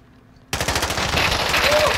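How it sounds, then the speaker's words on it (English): Rapid automatic gunfire from the Call of Duty Warzone video game bursts in suddenly after a quiet moment and continues loudly as a sustained rattling stream of shots. "I got shot. I got shot, bro. I'm getting shot."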